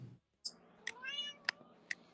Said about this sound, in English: See, he's meowing at the computer right now.